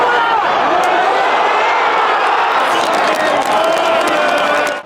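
Football fans in the stands at Spartak's new stadium opening roar and cheer in a dense, steady crowd wash that carries on throughout, with scattered shouts rising above the din.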